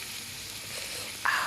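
Chips frying in a small amount of oil in a pan, a steady soft sizzle that grows suddenly louder and brighter near the end, as if stirred or freshly disturbed.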